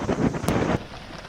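Heavy, steady monsoon rain pours down in Mumbai near the flooded Marine Drive and Colaba seafront, a loud dense wash with a brief sharper burst before easing slightly, no voices.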